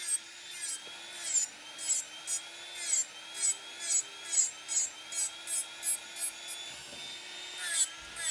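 Gel nails being filed with a nail file: a steady series of about a dozen even, scratchy strokes, close and moderately loud, over a constant low electrical hum.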